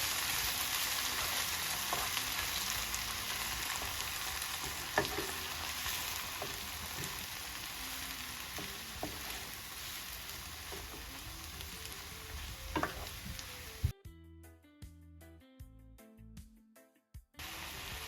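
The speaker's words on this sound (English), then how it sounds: "I could give it a quick saute." Minced garlic and seafood boil ingredients sauté in a pan, giving a loud, steady sizzle with occasional stirring scrapes. Near the end the sizzle drops away into quieter, choppy clatter.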